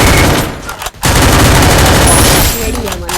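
Rapid, loud MP5 submachine gun fire in a video game, a dense continuous burst that breaks off for a split second near the start and then keeps hammering to the end.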